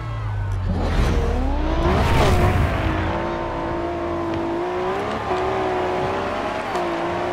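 A powerful sports car in the Forza Horizon 2 racing game roars at high revs, its engine note climbing and shifting through gears, loud and steady with a brief tire squeal and no talking.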